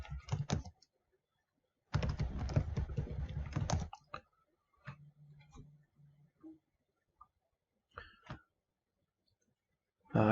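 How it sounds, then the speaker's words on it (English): Fingers type a password on a computer keyboard in short bursts of quick key clicks separated by pauses, close and clear, with a voice speaking briefly between bursts. "And type the password."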